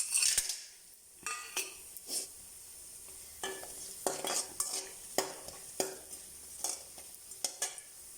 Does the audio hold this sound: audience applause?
no